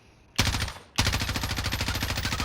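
An M4 rifle in Warzone fires a short burst, pauses briefly, then keeps up a steady, loud stream of rapid automatic fire close by.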